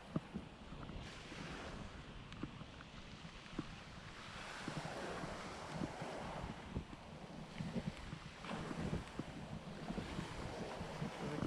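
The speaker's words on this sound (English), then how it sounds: "I don't even know if you guys can hear me over the wind." Strong gusting wind buffets the microphone at a beach ahead of Tropical Storm Ernesto, with surf roaring underneath in surging waves over several seconds, loud and without talk.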